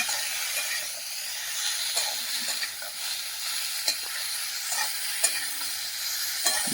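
Bitter gourd frying in a pan: a steady, bright sizzle throughout, broken every second or so by soft scraping knocks as the pieces are stirred, close and alone with no voices.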